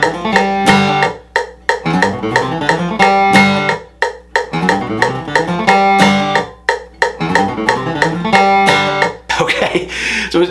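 A flatpicked acoustic guitar rips through a short lick with fast alternate picking, repeated in quick bursts with brief gaps, loud and close.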